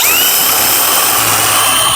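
A DeWalt 20V XR hammer drill runs in 3rd gear, boring a spade bit through wood with a loud, continuous high-pitched whir and a rising motor tone, steady and close throughout.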